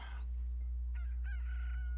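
A chicken in a farming video game clucks in a few short, faint calls over a low steady hum.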